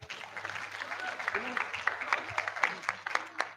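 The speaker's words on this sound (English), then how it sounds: "Round of applause." Applause at a Ghana College of Pharmacists award ceremony during the annual general meeting, as a fellow is called up; steady, moderate clapping from the audience runs throughout, with a few sharper claps and a faint voice underneath.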